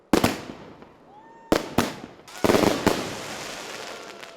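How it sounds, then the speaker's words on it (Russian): A fireworks display closing a public gathering bursts outdoors in sharp cracking bangs, several in quick succession with a pause, followed by sustained crackling and popping that trails into noisy rumble. "Подытожил встречу красочный салют."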